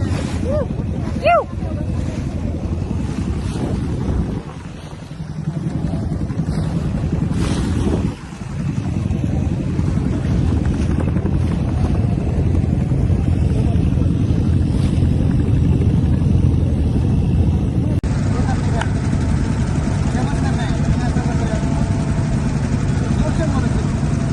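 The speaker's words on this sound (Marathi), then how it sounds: "बोट राईड चालू आहे मस्तपैकी, एन्जॉय करतोय." Boat ride on the river at Varanasi, with a steady broadband rumble of motor and wind noise running continuously and close, with no speech.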